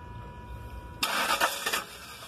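A pickup truck engine with a faulty crank sensor cranks after a quiet moment, bursting into a loud starter whir with a few pulsing surges.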